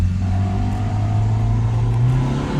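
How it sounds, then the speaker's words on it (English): Turbocharged Honda D16 engine in a two-door car pulling hard under boost, a loud steady drone with the pitch climbing gradually, close up and with no talk. "About to find out officially if the boost is under control."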